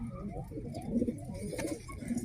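Soft, low cooing of pigeons kept in a loft, a few throaty murmurs close by over a faint background hum.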